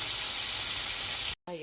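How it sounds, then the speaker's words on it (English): Fish fries in hot grease, giving a loud, steady, hissing sizzle close by that drops out abruptly, followed by a brief voice at the end. "Put that fish in the grease."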